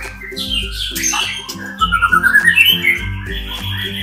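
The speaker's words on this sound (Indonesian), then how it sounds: "Sekolah mastering burung." Caged songbirds at a bird mastering school in Tanah Abang, Jakarta, singing loudly and close by, with a rapid run of bright whistled trills and chirps over repeated calls from other birds.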